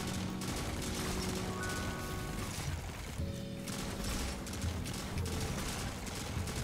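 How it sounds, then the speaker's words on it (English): Rapid energy SMG fire in a video game shootout, a dense continuous rattle of shots layered with other weapons and game effects throughout, loud and busy with no pause. "So this is an SMG, energy SMG."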